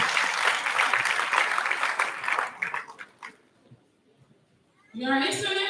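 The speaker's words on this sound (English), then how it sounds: "can we give him a round of applause?" An audience at a polytechnic convocation ceremony claps loudly and steadily, the applause fading out into near silence before a voice begins speaking over a microphone.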